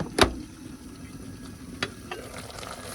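Saltfish fries in oil in a pot, a soft continuous sizzle broken by a few sharp clatters, one loud knock near the start and lighter ones later.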